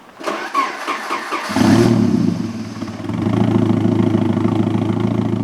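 Original turbocharged car engine with 160,000 miles, never rebuilt, cranking and catching, then settling into a loud, close idle with a rev swell partway through.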